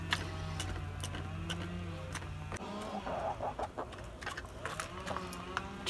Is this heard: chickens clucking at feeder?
yes